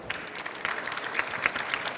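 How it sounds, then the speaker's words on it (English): Conference attendees at a disaster management and civil protection expo give the speakers a brief round of applause, with scattered, uneven claps and a few sharper individual hits. "Let's give them a big round of applause for them."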